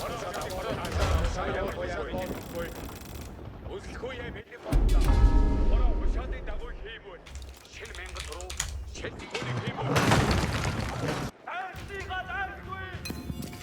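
Siege attack on a wonder in Age of Empires, with repeated mechanical clanks, rumbling impacts and crumbling sounds layered over game music, and a person talking over the action in bursts.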